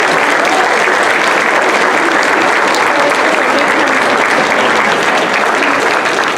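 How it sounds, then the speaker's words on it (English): Loud, close applause from a school audience at a beginning band concert, thick continuous clapping that stays at full strength throughout without pause or talk. "Let's clap for that."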